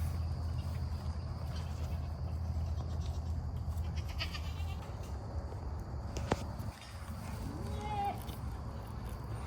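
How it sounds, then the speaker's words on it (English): Goats bleat on a farm over a steady low rumble of background noise, with a few short nasal calls scattered through and a sharper cry near the end, at moderate distance and no clear talk. "These goats."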